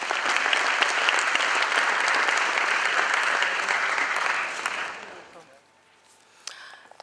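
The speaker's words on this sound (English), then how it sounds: "Please give a huge round of applause." A conference audience at a national XBRL event gives loud, dense applause for an incoming presenter, holding strong for about five seconds before fading away into near silence.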